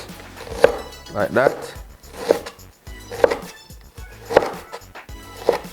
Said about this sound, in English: Now for the onion, now I'm just going to cut these in nice little strips.